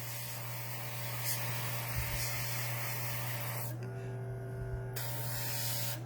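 An airbrush sprays paint onto a Heroquest miniature, powered by a compressor: a soft steady hiss over a low motor hum, with a brief change in the spray about two-thirds of the way through before it resumes.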